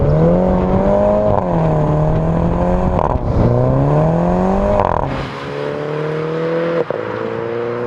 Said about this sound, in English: As you shift up, you get this bang,